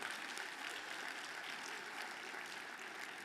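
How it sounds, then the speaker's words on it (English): Audience applause at a live event, a dense, even wash of many hands clapping from a crowd heard at moderate distance, steady for a few seconds. "Let's give Alicia a round of applause,"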